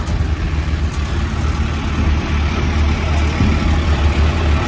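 A New Holland tractor hauling a 21-foot trolley for sand runs with a steady, loud, low diesel rumble close by, unbroken throughout with no voices.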